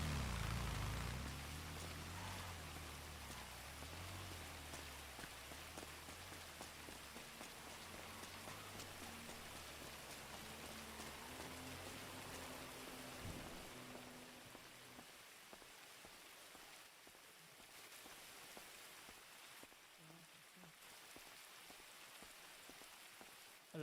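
Steady rain pours in a role-play video game, a dense even hiss of rainfall that runs the whole time under a low musical drone that fades partway through, with no talk.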